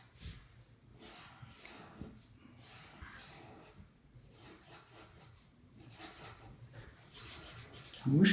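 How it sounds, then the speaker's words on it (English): A pen scratches steadily across paper while doodling, with soft, continuous strokes and small rubbing sounds that stay close and fairly quiet throughout. "I am going to draw"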